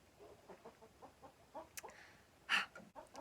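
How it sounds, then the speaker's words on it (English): Backyard chickens cluck softly in the distance, a faint, irregular series of short calls with one louder squawk near the end, and no one speaking. "if you hear some chickens in the background, yes, we do have chickens in our yard."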